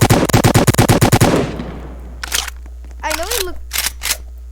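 Rapid burst of hacker-gun shots in Roblox Prison Life, a dozen loud sharp cracks in quick succession fading into a decaying tail, followed by someone talking.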